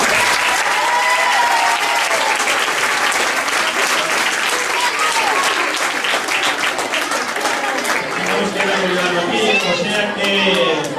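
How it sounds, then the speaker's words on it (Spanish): Loud, sustained applause from an audience for children at a Christmas festival, continuous clapping with crowd chatter and voices mixed in throughout. "Entón eu pido un aplauso para estes nenos maiores."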